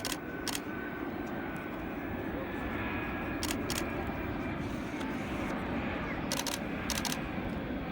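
An Airbus A380 airliner makes a slow, low flypast at an air show meeting, its engines giving a loud, continuous broad roar that holds steady throughout, while people talk over it and camera shutters click several times.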